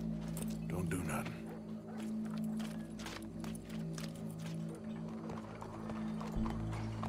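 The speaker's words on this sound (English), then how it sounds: "Go brush that horse, officer." In Red Dead Redemption 2, a horse's hooves clip-clop with a brief whinny near the start, mixed under game sounds and talk.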